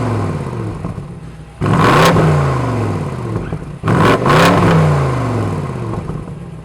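A 2020 BMW M850i Gran Coupe, heard from outside, revs its engine in two loud bursts, each a sharp rise in pitch that falls away into a throaty idle between blips.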